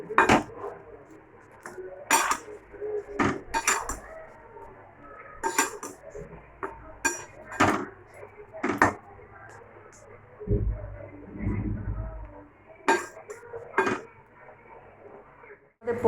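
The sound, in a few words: stirring potatoes in a pan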